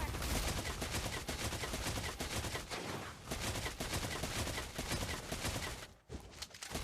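Rapid automatic gunfire from Beatrix's gun in a mobile MOBA game, a dense, continuous barrage of shots running nearly unbroken for several seconds with a brief dip near the end.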